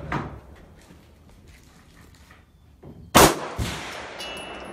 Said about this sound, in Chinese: 你要慢慢打，慢慢的扣，水哥。